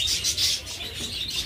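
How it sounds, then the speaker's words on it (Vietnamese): A pet budgerigar chirps in quick, bright bursts, a run of high twittering notes repeating close by with no talking over it. "ra đây chim yến nè"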